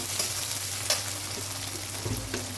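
Sliced shallots deep-fry with cumin in hot oil for a snake gourd fry, crackling and bubbling constantly up close, with occasional scrapes and taps of a stirring spoon.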